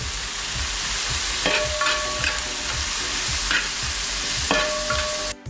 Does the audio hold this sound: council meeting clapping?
no